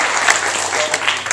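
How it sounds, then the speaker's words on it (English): A student audience claps for an improv comedy group in a short, loud burst of dense applause with a few louder individual claps on top. "Let's get a round of applause for them."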